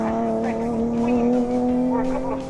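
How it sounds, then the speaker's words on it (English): A BMW race car engine drones steadily at high revs on the Knockhill circuit, its pitch shifting slightly as it powers along, with faint tire noise and a brief voice underneath. "just listen to Dave Griffin there in that beautiful, beautiful BMW class winner in OC and overall winner on the road."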